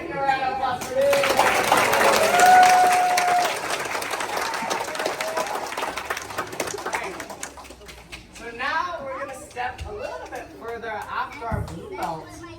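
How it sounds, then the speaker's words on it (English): Applause rings out from the audience at a boxing and martial arts demo, loud at first and then thinning out as children's voices and crowd chatter take over. "One more time, give a round of applause for this."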